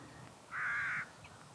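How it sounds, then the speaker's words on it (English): A single crow gives one loud, harsh caw at moderate distance outdoors, standing out against quiet background ambience. "There's a lot of crows here today."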